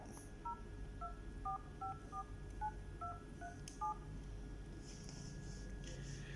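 A series of short touch-tone beeps as a phone number is keyed in on an NEC AT-55 telephone line, one tone after another, fairly faint over low background hum.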